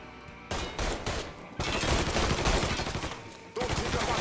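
Sustained bursts of automatic gunfire in the Mafia III prologue, a dense fusillade with brief gaps between volleys, loud and close throughout.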